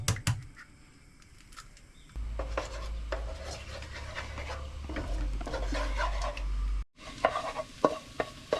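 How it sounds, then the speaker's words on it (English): An egg fries in a pan, giving a steady soft sizzle after a quiet start, with faint stirring and scraping sounds; the sizzle cuts out briefly near the end. "We fry the egg separately so it's not go soggy."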